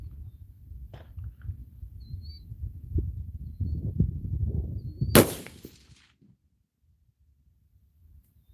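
A single sharp rifle shot fired on an outdoor range while zeroing a red dot sight, a loud crack with brief echo after low background rumble and handling noise, followed by near silence.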